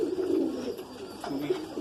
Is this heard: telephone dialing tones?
no